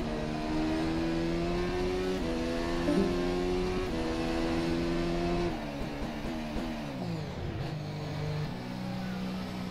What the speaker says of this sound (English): So that's why I give it full power on the engine